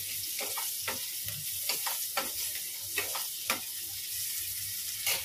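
Saag greens frying in a pan at home while being stirred, a steady sizzle broken by repeated scraping strokes of the spoon at an irregular rhythm, close and fairly quiet with no talking.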